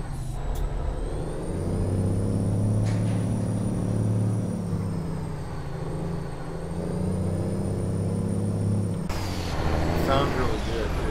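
Freightliner FLB truck engine in American Truck Simulator, a steady droning diesel rumble that holds for several seconds before a burst of hiss like an air brake near the end, loud and continuous.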